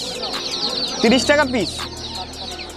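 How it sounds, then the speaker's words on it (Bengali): Australian chickens at a street market cluck in short, close, repeated bursts, with a louder squawking call in the middle, while someone speaks briefly over them. "অস্ট্রেলিয়ান মুরগি।"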